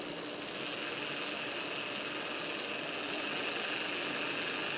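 A heavy model fireless steam locomotive with a smooth, high-efficiency 5-pole motor creeping along at crawling speed on speed step 1, giving a steady, even whirring hum that holds unchanged throughout.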